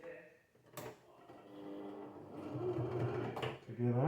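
A domestic sewing machine stitches two pieces of elastic together for a fitted sheet, a steady close mechanical whirr running for several seconds with a short pause and restart, while a person talks over it.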